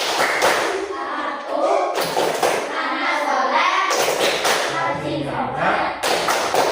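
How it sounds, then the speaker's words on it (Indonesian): Students in an Indonesian classroom perform a rhythmic clapping chant, with groups of voices chanting together and periodic bursts of hand claps punctuating the phrases at close range. "kita tepuk anak soleh"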